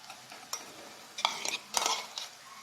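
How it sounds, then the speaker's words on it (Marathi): Ginger, garlic and chili paste with onion is sautéed in a pan for a potato bhaji, giving a soft frying hiss with several scraping, clinking stirs of a utensil against the pan, close and fairly quiet. "आलं लसणाची पेस्ट ही आपण एक मिनटासाठी परतून घेऊया"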